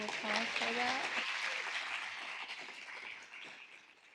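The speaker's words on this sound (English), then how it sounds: "Can we please hear a round of applause for that?" Audience applause at a user! 2025 keynote fills the room as a broad, steady wash of clapping that slowly fades, with a voice speaking briefly over the start.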